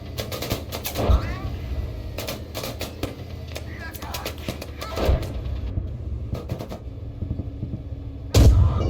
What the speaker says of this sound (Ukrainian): БТР стріляє.